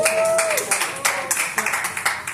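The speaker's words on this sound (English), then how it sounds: "Give yourselves a round of applause." Audience applause breaks out at a happy hour event in a restaurant, a dense burst of clapping with scattered sharp claps and cheering voices that tapers as the clip runs on.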